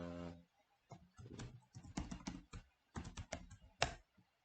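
Fingers typing fruit names into an Excel sheet on a computer keyboard, with a quick run of close key clicks in short bursts, brief pauses between them and one louder keystroke near the end.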